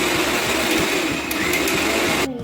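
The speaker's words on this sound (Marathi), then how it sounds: "आता आपण व्यवस्थित मिक्सरमधून काढून घेऊया" A mixer grinder churns soaked lentils with a loud, steady whirring hum and a rhythmic low thumping, then cuts off sharply near the end.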